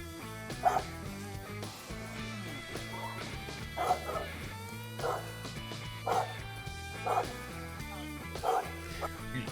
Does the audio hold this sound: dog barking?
yes